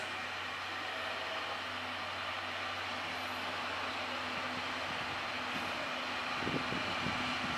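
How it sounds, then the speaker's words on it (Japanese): A train rolls in at Niitsu Station with a continuous, even rumble and hiss, ending in a few clanks and knocks as it slows at the platform. "列車進入しております。"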